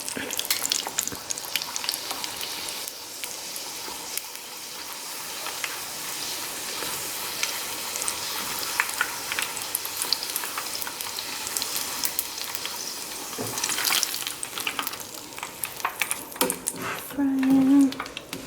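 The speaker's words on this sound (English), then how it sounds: "Frying." Continuous crackling sizzle of food frying in a pan, close up, with occasional clinks of a utensil against the pan.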